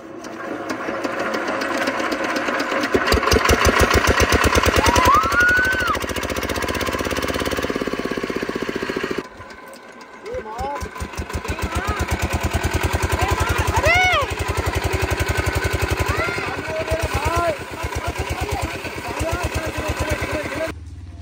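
A tractor engine starts and runs loud and close, chugging with a steady rapid pulse that drops briefly midway, then picks up again while people talk over it.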